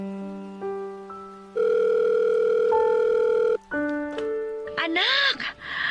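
Telephone ringing for an incoming call, steady electronic ringing tones that start and stop in a few bursts, fairly loud and alone, with a short burst of voice near the end.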